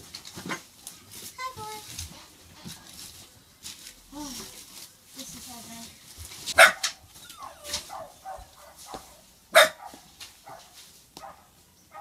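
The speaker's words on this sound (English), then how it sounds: "listen out for what the dogs bark at" Dogs bark nearby in several sharp, loud bursts scattered among quieter yips and whimpers, with people talking in between.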